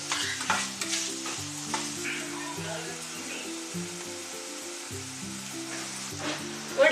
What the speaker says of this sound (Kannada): ಈರುಳ್ಳಿ ಚೆನ್ನಾಗಿ ಫ್ರೈ ಮಾಡ್ಕೊಳ್ಬೇಕು.